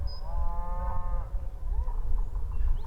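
Cattle moo loudly and close by during a Utah cattle drive at dawn. One long drawn-out bellow comes first, then a shorter, lower moo follows, with no people talking.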